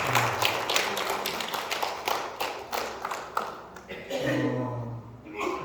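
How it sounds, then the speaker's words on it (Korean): Congregation applauding during a Sunday church service, a short spell of scattered hand claps with a voice speaking over it, followed by a steady murmur. "하여튼 박수를 좀 보내주겠습니다"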